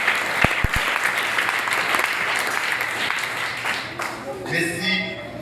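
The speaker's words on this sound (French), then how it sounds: "Applaudissez point Nelson." Church congregation applauding a man named Nelson during a service, a few sharp claps leading into sustained crowd applause that fades near the end as a voice begins speaking.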